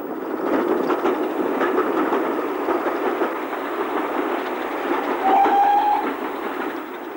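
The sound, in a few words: steam train on the Somerset and Dorset railway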